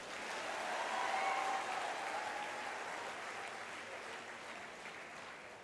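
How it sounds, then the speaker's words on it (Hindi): A hall audience claps together in sustained applause, a soft, even wash of many hands that swells slightly and then eases off gradually, with no voices over it. "एक बार फिर आनंद से ताली बजाओ"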